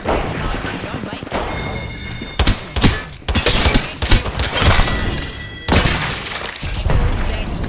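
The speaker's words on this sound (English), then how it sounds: "Chucking a frag." Frag grenade blasts in Apex Legends, loud sharp bursts with shattering crackle and booming tails amid other game combat noise, close and punchy, with a voice talking between them.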